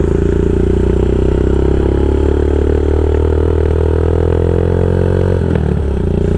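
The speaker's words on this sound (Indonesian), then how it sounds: "Knalpotnya menggelegar banget." Loud, close exhaust roar from a custom Royal Enfield Himalayan motorcycle by Smoked Garage, a deep steady rumble that holds its throb for several seconds, then briefly clatters and dips near the end, with no talking.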